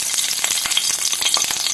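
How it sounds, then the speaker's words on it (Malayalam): Dried red chillies fry in hot coconut oil in a pan with a steady, close crackling sizzle and quick popping bursts throughout. "പിന്നെ നമ്മൾ ഈ വറ്റൽമുളകും ഈ വെളുത്തുള്ളിയും ഇഞ്ചിയും പച്ചമുളകൊക്കെ കൂടി ഒന്ന് നന്നായിട്ടൊന്ന് വെളിച്ചെണ്ണ ഒഴിച്ചിട്ട് വറുത്തിട്ട് വരാം"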